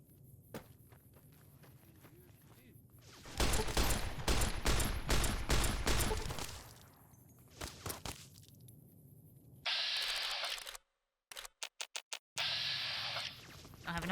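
Gunfire in Fallout: New Vegas: a loud burst of rapid shots after a few quieter footstep-like taps, then a later stretch of dense, noisy firing broken by abrupt silent gaps and short clicks.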